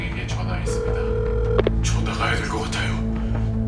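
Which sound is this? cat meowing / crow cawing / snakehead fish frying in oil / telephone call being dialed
telephone call being dialed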